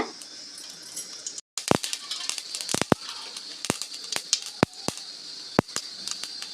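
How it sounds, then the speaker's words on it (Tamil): Sharp, irregular pops and crackles burst out one after another over a faint hiss as mustard seeds and urad dal splutter in hot oil. "இப்போ கடுகு உளுத்தம்பருப்பு சேர்த்துக்கலாம் கடுகு வெடிக்கட்டுங்க"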